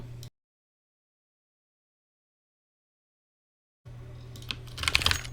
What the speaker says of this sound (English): my keyboard might be a little bit too close to the mic